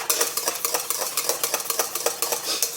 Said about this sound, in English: We're gonna whisk that again.